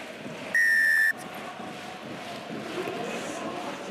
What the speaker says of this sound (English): Thomas Charabas about to blow the whistle for the opening of the second half.